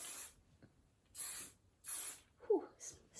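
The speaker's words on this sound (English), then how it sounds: "Just a bit of spray at the beginning." Hair spray from a nearly empty can hisses out in three short bursts, each about a third of a second long, close to the microphone, with a brief soft handling sound between them.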